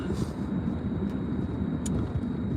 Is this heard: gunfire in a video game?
no